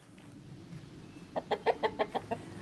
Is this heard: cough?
no